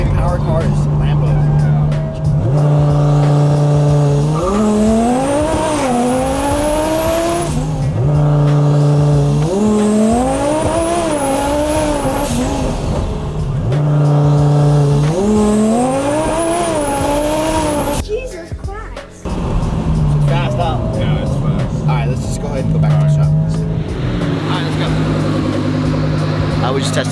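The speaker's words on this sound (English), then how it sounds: "Testing launch control, trying to dial it in for him since he's a drag racer" An Audi R8 revs hard in repeated launch control runs, three rising engine surges with sharp upward sweeps, loud and close, followed by a lower, rougher stretch.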